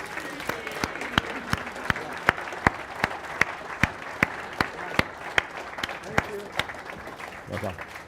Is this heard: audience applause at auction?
yes